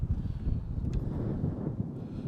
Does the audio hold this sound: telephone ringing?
no